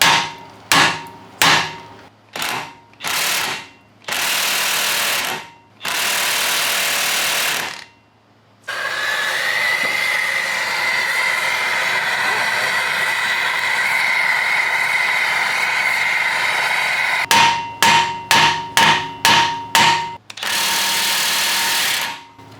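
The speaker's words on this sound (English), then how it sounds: "Give it like some good hard taps." Sharp metallic hammer blows on a car axle during an engine pull from an Abarth 500, coming in quick bursts of loud taps, a long stretch of heated working noise in the middle, then another rapid series of hard taps.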